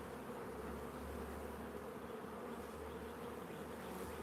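Honeybees droning steadily in an open hive during an inspection, a dense continuous insect hum that holds close and even throughout with no voices.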